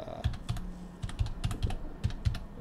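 Someone types an email on a computer keyboard, producing a quick, uneven run of close, crisp key clicks with short pauses between them.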